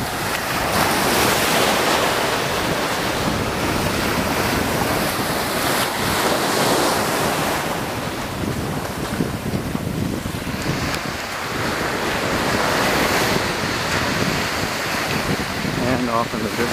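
Ocean waves rolling onto the beach at Stump Pass State Park at high tide, a loud continuous roar of surf mixed with heavy wind buffeting the microphone throughout.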